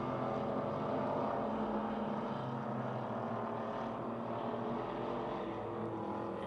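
Hobby stock race cars lap a speedway at about 86 mph, heard as a continuous loud, blended engine drone from a distance, steady with no clear pass-bys and no speech.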